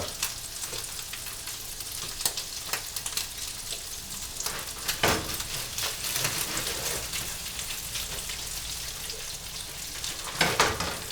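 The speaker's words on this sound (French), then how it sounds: "Donc je m'assure que ma poêle soit relativement bien chaude, hein, pour pouvoir procéder au flambage." Shrimp sizzle in a very hot pan while being flambéed with pastis: a steady, crackling fry with scattered louder pops and spits, close up and with no talking.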